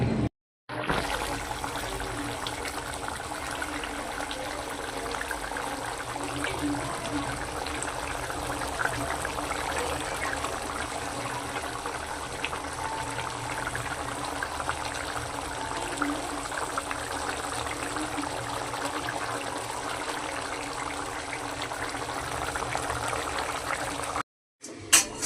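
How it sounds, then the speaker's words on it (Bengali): Water is added to a pan of cooking food, giving a steady, soft bubbling and hissing that runs unbroken for about twenty-five seconds, fairly faint and close, with no one talking. "এই যে বন্ধুরা হালকা জল দিয়েছি"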